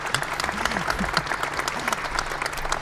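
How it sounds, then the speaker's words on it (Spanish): Audience applause at a live podcast recording in an open-air theatre: a steady patter of clapping from a crowd, close and continuous, with a few voices murmuring underneath. "Es la primera vez que se aplaude a alguien aquí en la presentación"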